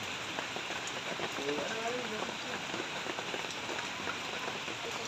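Steady afternoon rain patters on a surface, a dense even hiss with scattered drips, with a faint voice underneath at moments.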